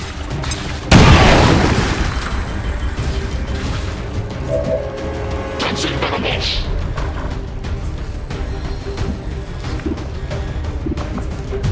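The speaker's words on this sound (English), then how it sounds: "Grenade out!" A grenade explodes in the video game XCOM 2: one loud, sharp boom lands near the start, then a rumbling tail fades into steady in-game ambience.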